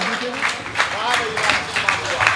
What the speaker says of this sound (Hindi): एक बार जोरदार तालियां बजा दीजिए हंसराज जी के